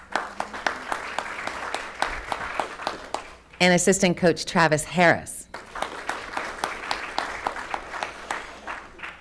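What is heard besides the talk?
audience applause at school board meeting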